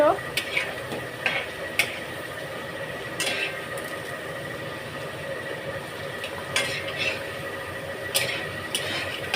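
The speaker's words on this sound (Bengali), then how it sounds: "হালকা করে ভেজে নেবো আলুগুলো।" Potatoes being lightly fried and stirred in a pan, with scattered scraping clicks of a utensil over a steady background sizzle; no talking.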